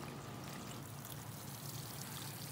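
Water poured steadily onto potted plants, a continuous soft splashing trickle that holds evenly from start to finish with no voices over it.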